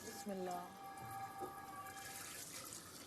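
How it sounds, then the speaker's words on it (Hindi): Water spills and splashes in a home kitchen where parathas are being made, a running, trickling wash under people talking nearby. "चलो, पानी गिरा, शुक्र है तेल नहीं गिरा।"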